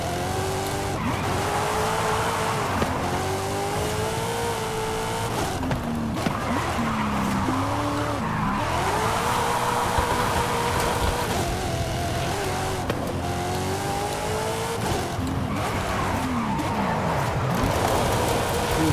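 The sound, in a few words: race car drifting with tire squeal, racing video game with Thrustmaster wheel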